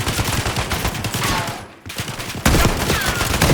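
Gunfire from the video game Call of Duty Black Ops 6, loud and dense rapid shots filling the clip, with a brief lull near the middle before the barrage resumes even louder.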